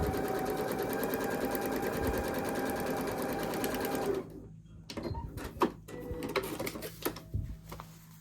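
A sewing machine stitching quilt block pieces runs in a fast, steady mechanical whir for about four seconds, then stops, leaving softer handling clicks and rustles nearby.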